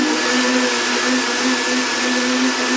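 A Blendtec or Oster Versa high-speed blender runs steadily on raw vegan butternut squash soup, a loud, continuous motor whir with a sustained hum, no pauses or talk.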